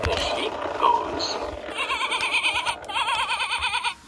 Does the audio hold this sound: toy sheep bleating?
yes